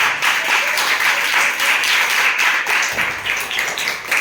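Audience applause fills a school science classroom during a class 7 lesson, a dense, steady patter of many hands clapping at close range for the whole stretch, with no talk over it.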